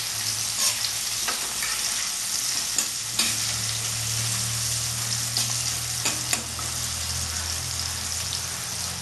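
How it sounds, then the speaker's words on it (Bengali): Potatoes fry in a pan for a Bengali cabbage and prawn dish, giving a steady, close sizzle with occasional scraping stirs throughout. "আলুগুলো একটু ভাজবো।"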